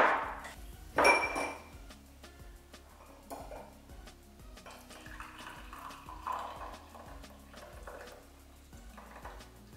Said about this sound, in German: Jetzt nehme ich das vom Herd, siebe die Schale, die Kerne und das bisschen Fruchtfleisch ab.